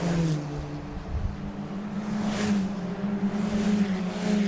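Fiesta Zetec race cars at Mondello Park circuit crossing the finish line together, a sustained loud engine drone with a steady low pitch that swells and rises around midway as the pack passes close.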